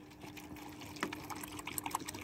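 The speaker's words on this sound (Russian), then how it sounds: "Сейчас я налью чистенькую воду вам." Clean water pours into a cat's bowl, a soft close trickle and splash that runs steadily for about two seconds with small drips toward the end, heard alone.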